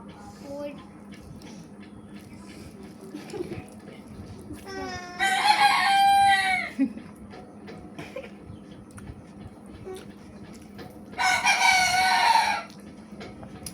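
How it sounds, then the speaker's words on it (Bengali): A backyard pet rooster kept with hens crows twice, loud and close, each crow a long rising-then-falling call lasting about one to two seconds, with steady low background noise and some talk in between. "আমার মোরগ কিন্তু সময় নিয়ে অসময় যখন ওদের ডাকতে মন চায় তখনই ডাকে"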